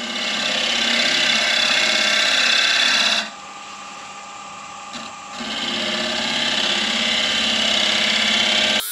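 A woodturning lathe spins while a tool scrapes the bottom of a wooden lidded box, a loud close rasping whir that drops to a quieter hum midway before the scraping resumes.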